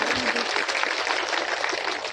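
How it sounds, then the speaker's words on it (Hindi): Applause welcomes a district party president at a Suheldev Bharatiya Samaj Party rally, a dense crowd clapping steadily throughout, loud and sustained with a faint voice underneath. "जोरदार ताली बजा करके इनका स्वागत करिए"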